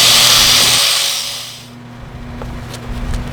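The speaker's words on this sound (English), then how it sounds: "I'm going to clean them up with a grinder and we'll be ready to" A grinder works over welds on a home-built sawmill, a loud high whine that winds down after about a second, leaving a low motor hum with light clatter.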